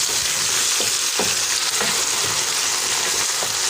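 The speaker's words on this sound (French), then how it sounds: "On mélange bien le tout" Guinea sorrel sauce with tomato sauce and peanut powder sizzles and bubbles in a pan while being stirred, a constant close frying hiss with periodic scraping strokes of the spoon.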